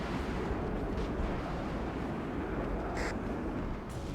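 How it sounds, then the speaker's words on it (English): Distant machine gun fire from gunners suppressing an infantry unit in the Warno real-time strategy game, a steady low rumble of muffled bursts with a couple of sharper cracks near the end. "The machine gunners are actually going to suppress and destroy this infantry unit here."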